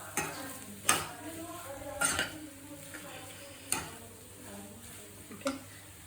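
A spoon stirs vada pav potato mixture in a pan, giving a soft continuous scraping with four or five sharper clinks against the metal, close and moderately quiet, with no speech.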